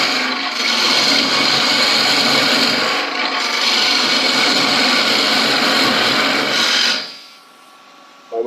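Roughing gouge cutting a wood spindle on a lathe at a woodturning club demo: continuous loud, rough scraping hiss with a brief dip near three seconds, then stopping abruptly near the end, leaving quiet room tone.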